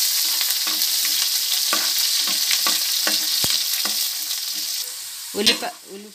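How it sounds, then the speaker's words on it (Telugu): Onion pieces and curry leaves fry in hot oil with mustard seeds for fish curry, giving a loud continuous sizzle with repeated stirring scrapes and a sharp clatter near the end. "ఇప్పుడు కొంచెం కరివేపాకు, ఉల్లిపాయ ముక్కలు వేసేసుకుందాం. ఒకసారి కలిపేసుకుందాం."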